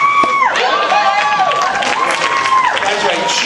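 An audience at New York Comic Con cheers and claps at a Spider-Man and friends panel, loud and close, while someone talks over the crowd noise the whole time.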